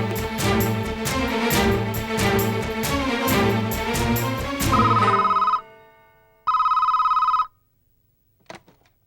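A telephone rings loudly and close in a rapid repeating electronic bell pattern, then shifts to a steady tone, pauses, and sounds once more before a faint click in a Tamil TV serial scene.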